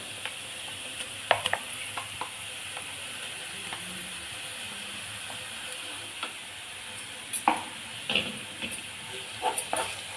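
Ground masala fries with browned onion in a pan, giving a steady soft sizzle with scattered clicks and scrapes of stirring, close and fairly quiet, with no talking.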